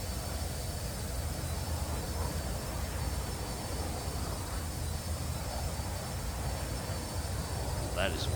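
A steady, loud jet roar from an X-Wing engine pushed into afterburner in the DCS World flight sim's Star Wars mod, a continuous rumble held at constant strength throughout with no pauses.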